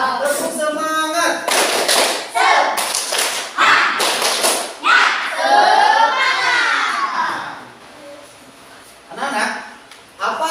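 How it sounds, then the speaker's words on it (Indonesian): A primary school class does a rhythmic spirit clapping cheer in the classroom: loud, close bursts of patterned claps mixed with children's chanted shouts, stopping and starting in time. "Siap. Tepuk semangat."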